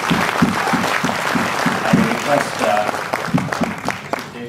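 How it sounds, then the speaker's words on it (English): A conference audience at a TiECon Hubli 2012 session breaks into applause, rhythmic claps close and fairly loud, with a voice speaking briefly over the clapping. "they deserve a round of applause from all the audience"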